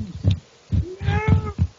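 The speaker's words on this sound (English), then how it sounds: "Did you hear a cat?" A cat meows once in a drawn-out, rising-then-falling call, mixed in with low thumping knocks close by.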